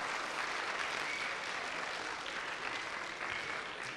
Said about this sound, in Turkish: Jürimize güçlü bir alkış alabilir miyiz?